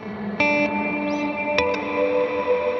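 An ambient electric guitar played through a BigSky reverb pedal with pre-delay at noon: a few plucked notes ring out into long, shimmering sustained tails, with a bright chiming accent midway, close and alone.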